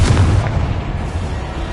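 A Confringo fire-spell explosion in the video game Hogwarts Legacy, a loud, deep blast with a rumbling low boom that fades over under two seconds.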